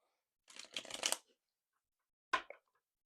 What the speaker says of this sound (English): we'll shuffle up this deck here